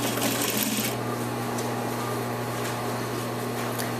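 A sewing machine hums steadily while stitching a cuff onto a sleeve, a continuous close mechanical whir with a slightly louder burst at the start and no talking.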